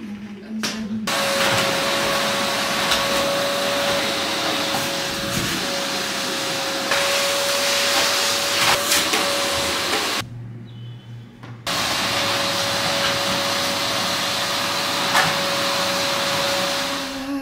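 A vacuum cleaner drones steadily with a constant whine, cutting out briefly before starting again, loud and close.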